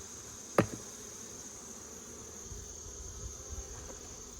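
Honey bees crawling on a hive frame during a sugar-water feeding, a faint steady buzzing hum with a sharp knock near the start and a few soft bumps later.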